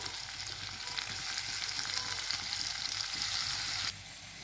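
Masala and chopped tomatoes fry in a hot pan for a Bengali-Assamese style pea ghugni, giving a steady loud sizzle close by that drops slightly near the end, with no talk.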